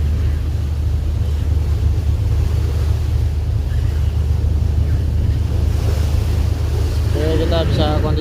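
The cargo ship MV Meratus Bontang berths in port with one tug, heard as constant low engine and water rumble under heavy wind buffeting, with a brief voice near the end.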